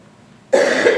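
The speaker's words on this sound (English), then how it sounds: "I'm sorry I'm coughing." A single sharp cough bursts in halfway through, loud and close, following a moment of near silence and trailing into a rough throat-clearing sound.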